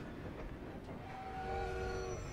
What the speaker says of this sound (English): Oh, stop the train!